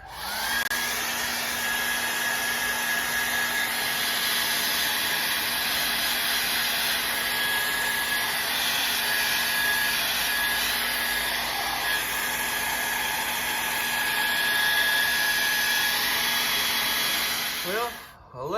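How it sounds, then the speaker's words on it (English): A hair blow dryer roars steadily at close range while drying off a truck after a wash, holding one loud whine before cutting off abruptly at the end. "less than 5 minutes later, blow dryer's done the job"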